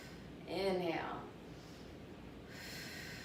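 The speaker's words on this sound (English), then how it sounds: "So take a deep breath. Exhale. Inhale. Exhale." A single deep breath is drawn and released close by during an arm-toning workout with weights, then soft background hiss.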